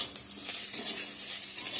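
Bay leaf, onion, dry chilli and panch phoron sizzling in hot oil for a dal tempering, a continuous bright hiss with faint stirring clicks.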